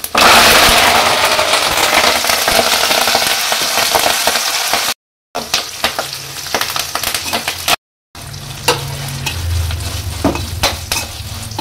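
Mustard seeds and curry leaves crackle in hot oil with a loud, dense sizzle that later thins out. After a couple of short cuts, sharp stirring clicks and scrapes against the pan cut through the frying noise.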